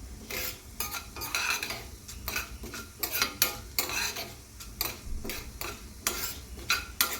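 Coriander roasting in hot oil in a pan while a curry is prepared, soft continuous sizzling broken by repeated scraping stirs of a spoon against the pan, close and steady with no talking.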